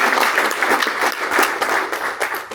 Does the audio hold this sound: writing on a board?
no